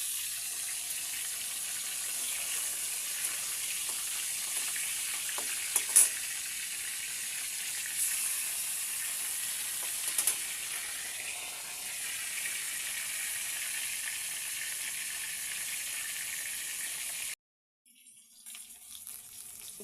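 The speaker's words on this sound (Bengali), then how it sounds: "একটা একটা করে মাছগুলো আমি এরকম করে ভেজে নিব।" Fresh fish pieces frying one by one in a pan give a steady, close hiss of sizzling oil with a few sharp crackles, cutting off abruptly near the end; no one speaks.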